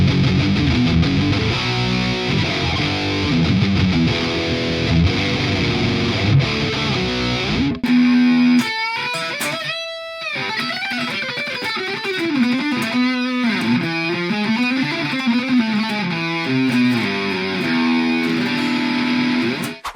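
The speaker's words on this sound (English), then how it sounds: "here's another example of the capture with a distortion pedal added on top" Electric guitar played through a Sonicake Ampcube mini amp running a NAM capture with a distortion pedal stacked on top, chunky riffs giving way to sustained distorted notes and bends after a brief pause, loud and alone.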